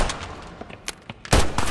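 Gunfire in a film scene: a few sharp cracks, then a loud, sustained burst of shots near the end, heavy and close with no voices.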